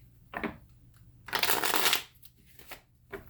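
Tarot cards being shuffled in several bursts, a quick riffle, then a longer, louder flurry, then softer shuffles, close by with no talking.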